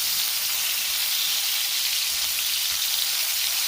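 Olive oil sizzles steadily in a hot pan on high heat while scallops and shrimp cook, a dense, even hiss that runs close and continuous throughout with no talking.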